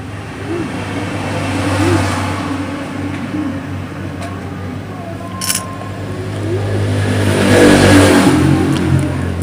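A sewing machine set up for stitching thick fabric runs with a steady, loud motor hum that holds throughout and swells near the end, with no talking.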